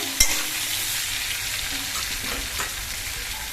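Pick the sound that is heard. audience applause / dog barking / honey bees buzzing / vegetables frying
vegetables frying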